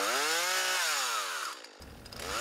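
Chainsaw cutting through invasive tamarisk weed, its engine note rising and falling in strong revving sweeps, loud and close, then settling into a rougher, steadier bite into the wood near the end.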